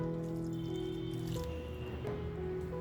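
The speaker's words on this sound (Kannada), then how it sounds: "ಇವಾಗ ಸ್ವಲ್ಪ ಸ್ವಲ್ಪನೇ ನೀರು ಹಾಕಿ ಕಲಿಸ್ಕೊಳ್ಳೋಣ" Grated carrot and curd mixture is kneaded by hand with a little added water, giving soft, wet squelching squishes over about three seconds beneath steady background music.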